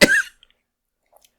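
A single sharp cough close to the microphone during a podcast recording, one short loud burst followed by near silence and a couple of tiny faint clicks.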